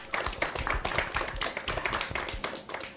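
An audience applauds a performer on an Indonesian TVRI Sulawesi Selatan television show, with brisk, close clapping sustained throughout and a faint voice underneath.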